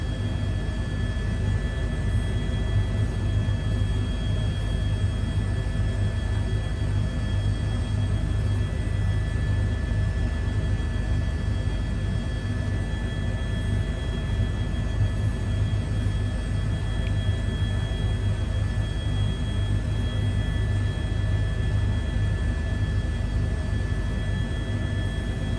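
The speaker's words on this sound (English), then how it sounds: "the aircraft you see me flying is the High Performance Group H145 helicopter" A High Performance Group H145 helicopter, luxury variant, flying in a flight simulator near Seattle-Tacoma Airport gives a steady, loud engine and rotor whir with a low rumble and constant tones throughout.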